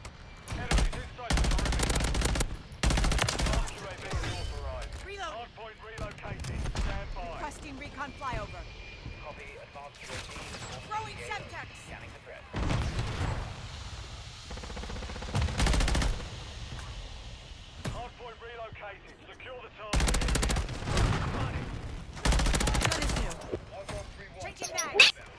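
BP50 rifle fire in Modern Warfare 3 comes in repeated sharp automatic bursts separated by pauses, loud and close, with a player talking throughout between and over the shots.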